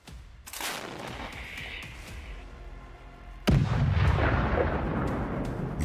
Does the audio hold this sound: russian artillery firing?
yes